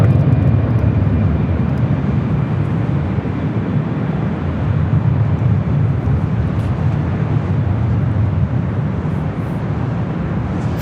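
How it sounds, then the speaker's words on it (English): A Delta Connection Embraer E175 jet operated by SkyWest Airlines arriving at LAX, a loud, steady low engine roar that holds throughout without talk. "First arrival is Delta Connection, operated by SkyWest Airlines Flight 3780, coming in from Sacramento. It's an E175LL."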